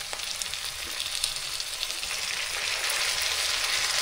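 Tomatoes fry with onions, curry leaves and green chillies in a pan for crab gravy, giving a steady close sizzle and crackle that grows slightly louder, with no talking.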